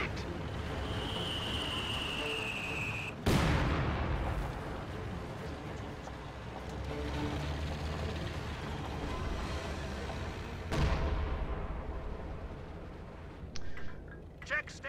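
Two heavy booms from Priest artillery firing in a strategy video game, one early and one late, each a sharp blast with a rumbling tail, over low battle ambience with faint clicks near the end.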